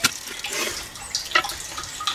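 Spring overflow water trickling and splashing into a wildlife watering point, a close steady gurgling flow with small bubbling bursts.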